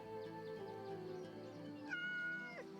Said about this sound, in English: Aha. A cat!